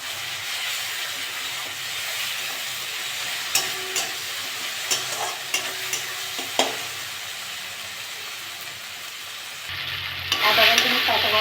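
Ginger-garlic paste frying in a pan with cooked tomato for a tilapia fish curry, a steady sizzle with several spoon scrapes and stirring knocks, then a louder burst of hissing steam near the end.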